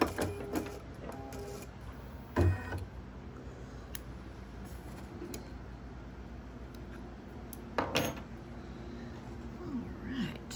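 An embroidery machine stitches out a design on bath tissue, giving a steady, faint mechanical hum with occasional clicks and brief louder thumps.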